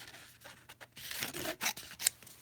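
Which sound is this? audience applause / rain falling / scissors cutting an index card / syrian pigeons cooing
scissors cutting an index card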